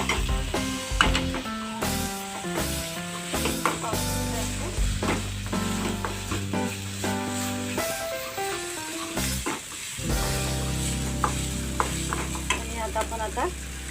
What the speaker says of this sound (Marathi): आता आपण एक फिरवून घेऊया कांदे वरती आपलं।